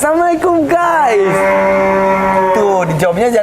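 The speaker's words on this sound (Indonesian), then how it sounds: "Ini suara sapi sudah terdengar di sini." Cattle moo loudly and close at a livestock farm, one long drawn-out low call flanked by shorter bellows, clearly harmonic and dominant in the clip.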